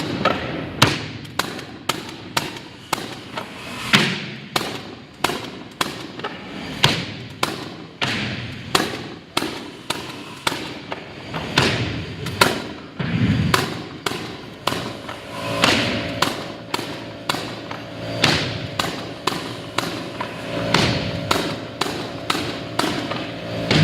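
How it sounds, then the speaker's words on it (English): Hardwood nail guns drive nails into a maple gym floor, firing as dozens of sharp, loud pneumatic bangs in an irregular rapid rhythm, with a compressor humming underneath in the second half. "we're going to get out our hardwood nail guns and get all of our equipment plugged in to the compressors"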